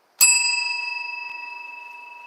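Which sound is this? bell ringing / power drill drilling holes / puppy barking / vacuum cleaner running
bell ringing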